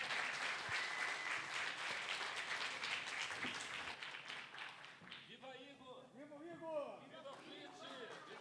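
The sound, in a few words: audience applause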